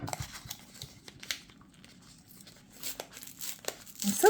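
Scissors cutting open the packaging of a tarot deck: crinkling plastic and paper with snips and rustles at an irregular pace, close and fairly quiet, growing louder at the end.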